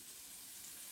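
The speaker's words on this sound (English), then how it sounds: "I'm going to drop in like my garlic and also my green onion as well." Garlic and green onion frying in oil in a pan, a steady, bright, hissing sizzle throughout, close and even with no talking.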